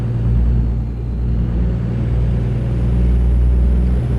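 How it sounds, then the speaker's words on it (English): A heavy truck's N14 Cummins diesel engine in American Truck Simulator drones steadily and loudly, a deep continuous rumble with a slight swell in pitch, heard alone without talk. "And I do have an N14 Cummins in this truck right now."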